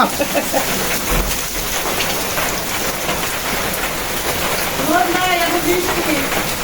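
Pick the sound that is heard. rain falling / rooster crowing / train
rain falling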